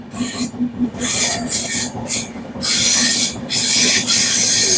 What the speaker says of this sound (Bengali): ট্রেনটা ঢুকছে কিভাবে দেখুন একবার